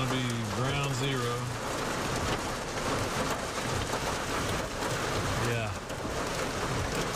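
Heavy rain with hail pounds down during a severe thunderstorm, a dense, steady roar running the whole way through, while someone speaks briefly near the start and again toward the end.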